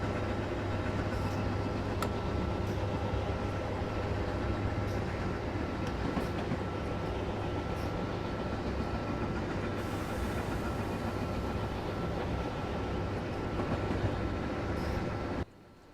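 A locomotive runs on the Northeast Corridor in Train Simulator 2017 with a steady, loud rumbling engine drone and track noise, constant throughout and cutting off abruptly at the end.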